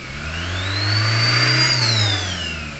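A 2015 Ford Ranger XLT with a 2.2 engine, running with low power and too much noise, revs up in one smooth rise, holds, then eases back down, loud and close with no talk.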